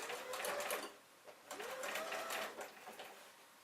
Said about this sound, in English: make sure that you've got your sewing machine in a stitch which is about 4 long